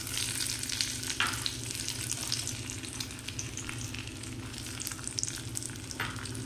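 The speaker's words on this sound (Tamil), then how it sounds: "இது ரெண்டும் கொஞ்சம் நல்லா ஒரு ஃப்ரை கொடுத்ததுக்கு அப்புறம் கிஸ்மிஸையும் டேட்ஸையும் ஆட் பண்ணிக்கலாம்" Cashews and almonds fry in a hot pan for a sheer kurma dessert, giving a steady, dense sizzle with light crackles and occasional stirring scrapes, alone without talk.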